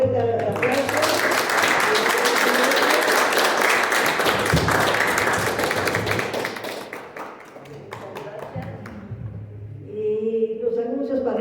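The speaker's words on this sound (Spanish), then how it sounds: "Les damos un fuerte aplauso." Loud, sustained applause from an audience fills the room for several seconds, then fades into scattered claps as voices return.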